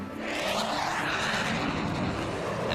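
Jet airplane flying past, a steady broad roar of engine and rushing air that holds loud and constant throughout with no voices.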